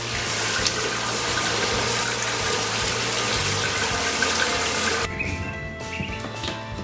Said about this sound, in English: We just turned off the water